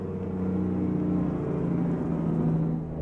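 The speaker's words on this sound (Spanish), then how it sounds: "Metemos freno de motor y escuchemos ese freno de motor bajando" A truck's engine brake in American Truck Simulator drones steadily as the vehicle slows, a continuous low rumble with a faint whir layered over it, close and even throughout with no talking.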